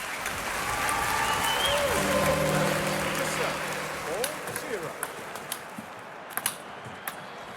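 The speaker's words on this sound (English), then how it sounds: "Crowd starting to get into the game as the rally starts building." Virtual crowd applause at a London 2012 video game tennis match swells as a steady wash for several seconds under a commentator's voice, then thins to scattered sharp hits and claps.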